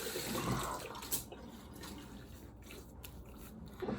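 Tap water runs and drips steadily while soap lather is rinsed off after a shave with a Blackbird brass safety razor, a soft continuous wash with a few brief splashes and no talking.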